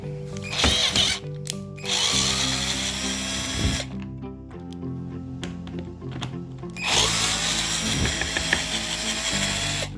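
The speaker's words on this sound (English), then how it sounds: "I'm going to use this cordless drill." Close-up cordless drill runs in several bursts, whining up and spinning down between them, with clicks and rattles as screws back out of a freezer door seal.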